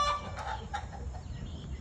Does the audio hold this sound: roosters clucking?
yes